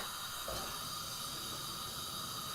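Black mustard and cumin seeds hit hot oil in a pan, giving a steady close hiss of frying with faint crackles as the seeds begin to pop, no voices.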